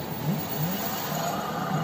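An electric bike's hub motor whirs under throttle after its wiring harness, throttle, switch, controller and converter were replaced, a steady close whine with faint tones gliding upward and holding level, with no talk.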